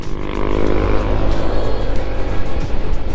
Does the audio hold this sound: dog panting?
no